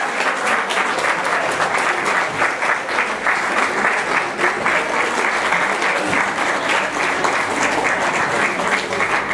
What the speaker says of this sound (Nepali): उहाँको लागि पनि जोरदार तालीको अपेक्षा